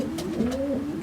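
Racing pigeon of Hennings long-distance stock cooing in a breeding box, one close, low rolling coo that rises and dips over about a second.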